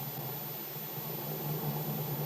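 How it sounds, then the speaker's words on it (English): A car motor running smoothly as a radio drama sound effect, a low steady hum at moderate level with a faint hiss, continuous and alone without speech. "Now, as they get into the new car, Bill starts the motor."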